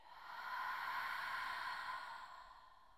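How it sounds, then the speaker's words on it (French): Slow exhalation through the mouth during a yoga warrior flow session, a soft, steady breathy rush swelling and fading over a few seconds, close and quiet with no talking. "Encore une fois, inspire par le nez. Expire par la bouche."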